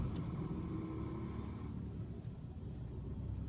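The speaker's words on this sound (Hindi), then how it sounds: "अब गाड़ी स्टार्ट करते हैं।" A Ford EcoSport, just fitted with new steering and ball-joint parts, has its engine running with a steady low rumble from close by, constant throughout and with no voices over it.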